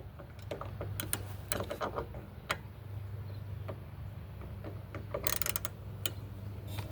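Socket wrench with a 14mm socket taking bolts off a John Deere JS25 lawn mower during restoration, a run of quick ratcheting ticks and metallic clicks in bursts close by over a steady low hum.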